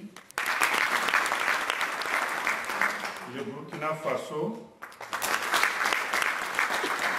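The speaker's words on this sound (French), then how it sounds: "Il y a la République du Bénin que je vous demande d'applaudir." Applause from an audience at a closing ceremony for African artisans' training in Rabat, greeting African countries as they are named; dense clapping throughout, dipping briefly in the middle while someone speaks, then swelling again.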